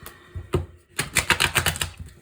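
Tarot cards being shuffled give a quick run of close, crisp riffling clicks after a couple of isolated taps.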